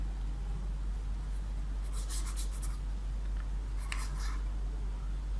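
A physics problem is written out by hand, pen scratching in two short bursts over a steady low electrical hum, faint and close, with no speech.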